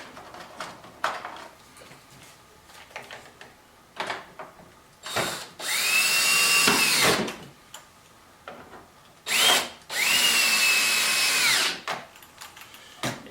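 A power tool drives bolts back into the fairing of a 2016 Harley Tri Glide motorcycle: two sustained, whining runs of a few seconds each, separated by short clicks and handling noises, with no talk.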